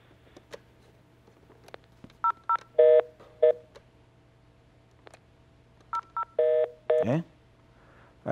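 Telephone keypad tones sound over a phone line as short paired beeps in clusters, clear and close, with quiet hum and brief gaps between the groups.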